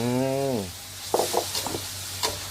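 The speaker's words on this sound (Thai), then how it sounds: "ผัดไปเรื่อยๆ ใส่น้ำมันหอยลงไป" Wood ear mushrooms stir-fried in a pan with soy sauce and oyster sauce: a spatula scrapes and clatters in a few quick bursts over a steady low sizzle, after a voice trails off at the start.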